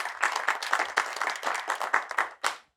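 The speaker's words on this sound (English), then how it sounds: "And please give a warm applause for Joost van der Linde." Audience claps to welcome a speaker at an energy-innovation event, a short burst of moderately close clapping that ends with a final few claps and then stops.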